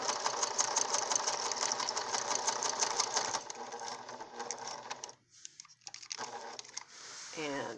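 A sewing machine forward stitches a mask seam in a steady, close mechanical hum that runs for several seconds, then drops off briefly and resumes in shorter bursts.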